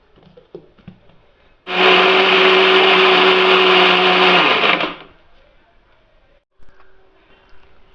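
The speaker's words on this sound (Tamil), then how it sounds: "ஜாரில் போட்டு அரைச்சி எடுத்துக்குவோம்" A mixer grinder whirs loudly for about three seconds while grinding carrots with water, then cuts off abruptly, leaving quiet kitchen sounds.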